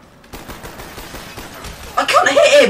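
Rapid gunfire in Black Ops gun game mode, quieter shots rattling at first, then a louder, harsher burst near the end over faint game noise.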